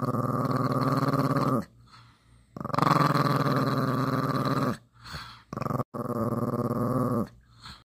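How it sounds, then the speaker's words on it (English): A dog growls loudly and close after sniffing vinegar, in three long sustained rumbling bursts separated by short pauses. "Let your dog smell vinegar for the first time."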